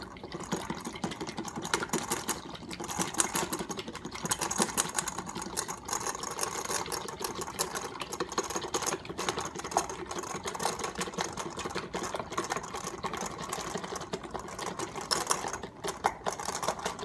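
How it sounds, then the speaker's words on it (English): A small hand whisk beats a mixture in a bowl, making a fast, continuous, even clatter and swish that runs steadily and moderately quiet throughout. "I'm going to use just a little whisk, and really, if you're doing this by hand, it's going to take a while"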